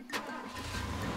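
A vehicle engine in Far Cry 2 cranks with a sharp burst, then settles into a steady, fairly loud running rumble that continues to the end.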